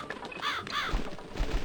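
A bird caws repeatedly in The Cat Lady horror game, two or three harsh calls close together against a quiet ambient background, followed by a few soft low thuds.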